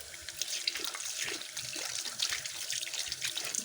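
Tap water runs steadily into a sink with splashing as tomatoes are washed beneath it, a continuous close hiss with small uneven splashes.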